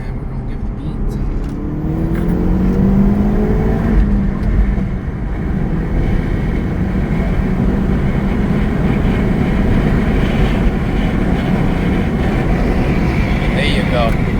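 A 2024 Hyundai Elantra N pulling hard during its break-in period: a loud, continuous engine roar with rising pitch sweeps as it climbs through the gears, heard from inside the cabin, with wind and road noise and people talking over it.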